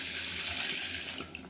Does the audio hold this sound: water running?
yes